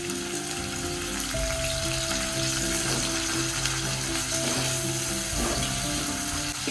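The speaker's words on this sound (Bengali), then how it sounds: "তেল গরম হলে আমি এটাতে পেঁয়াজ ছেড়ে দিব।" Onions sizzle in hot oil for a catfish curry with potato and tomato, a dense, continuous frying hiss close up with a faint steady hum beneath and no talking.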